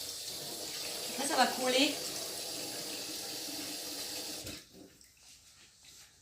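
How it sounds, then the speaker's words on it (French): Water runs from a kitchen tap into a bowl during the making of a homemade speculoos mousse, a steady close rush that swells briefly and stops near the end, with someone speaking over it. "je mets de l'eau dedans"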